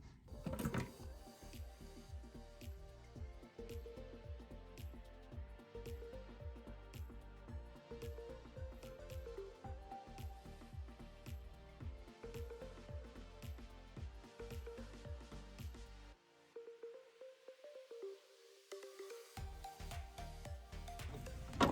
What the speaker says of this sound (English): So let's sew that into place now.